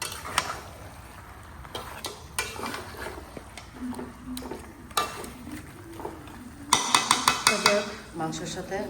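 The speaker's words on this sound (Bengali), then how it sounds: "মাংসের সাথে মশলাটা মিশিয়ে দিলাম।" Meat being mixed with spices in a metal pot, a steady run of scraping and clinking from the spoon or utensil, with a louder burst of rapid clattering near the end.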